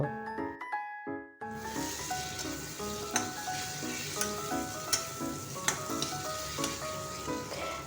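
Spice paste sizzling as it is fried in a pan, a steady hiss with regular stirring taps, following a brief burst of tonal background music at the start.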